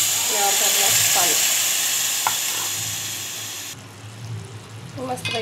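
Masala paste sizzles and spatters in a hot pan as half a glass of water goes in, the loud frying hiss dying down to a softer bubbling, followed by a few stirring scrapes.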